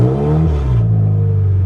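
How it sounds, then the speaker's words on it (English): A 2018 Jaguar XF, long unused with only 222 miles, gives a short rev, the engine note rising briefly then settling back to idle, close and steady. "Let's give her a little rev."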